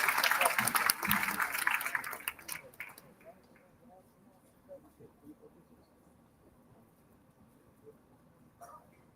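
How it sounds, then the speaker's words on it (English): Audience applause at the opening session of Social Business Day, a burst of clapping that dies away within a couple of seconds, leaving quiet room noise and faint scattered sounds. "We have a huge round of applause for Ms. Lewis."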